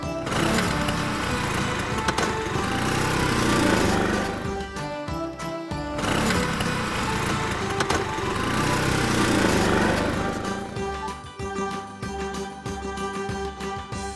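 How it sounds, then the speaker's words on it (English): A small scooter engine drones steadily and loudly, revving with a brief dip midway before continuing at a buzzing, rough pitch. "Scooter."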